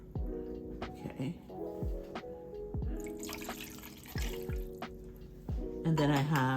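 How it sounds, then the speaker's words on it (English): Beef broth goes into a pot for pomegranate short ribs with splashy drips and trickles, heard close, while a voice hums or murmurs in the background. "I have to put another 1/2 cup here of the beef broth."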